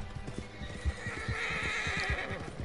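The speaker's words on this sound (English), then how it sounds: "Stupid horse." A horse in the video game Red Dead Online neighs over steady clip-clop hoofbeats, the rhythmic hooves sounding close and continuing throughout at moderate level.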